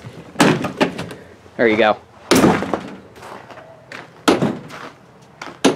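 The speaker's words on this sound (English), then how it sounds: "if you push this, you can open the door all the way" Sliding side door of a 2020 Ford Transit 350 low-roof cargo van rolling open with a couple of heavy thunks and clatters, close by, while someone talks over it.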